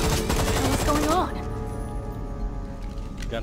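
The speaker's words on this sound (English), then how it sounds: "Gunfire?" Gunfire in the Resident Evil 6 video game, Medical Research Center level: a dense burst of rapid crackling shots up front that cuts off after about a second, leaving game ambience and tonal music underneath.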